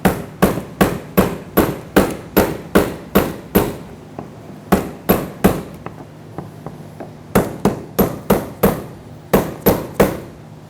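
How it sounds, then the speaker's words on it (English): A hammer strikes a pry bar to seat the fuel pump module lock ring on a 2000–2005 Ford Excursion, heard as loud, sharp metallic taps in quick runs of four to seven, with brief pauses between the bursts. "just give it a couple taps with a pry bar and a hammer to ensure that it's fully locked in"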